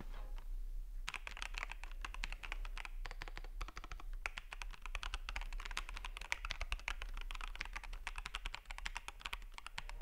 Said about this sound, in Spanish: amortiguar al máximo el ruido del teclado mecánico, consiguiendo así una increíble sensación al teclear